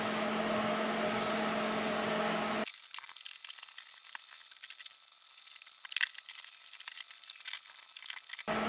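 A spray can hisses steadily while paint is sprayed onto the underside of a boat floor, a faint, close, continuous airy spray that runs for several seconds.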